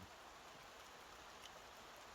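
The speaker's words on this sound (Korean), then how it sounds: "비가 오니까" Rain falling on a mountain trail on Hwawangsan in Changnyeong during the autumn silver-grass season: a faint, even, continuous hiss with no other sounds or voices.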